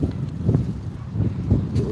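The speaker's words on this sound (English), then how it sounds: "a little windy" Low, gusty wind buffets the microphone in uneven surges, rumbling steadily for a couple of seconds with no other clear sounds.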